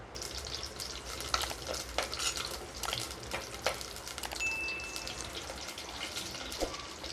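Fenugreek seeds fry in sesame oil in a clay mud pot, a soft steady sizzle dotted with small crackles and pops, faint and close, with no speech over it.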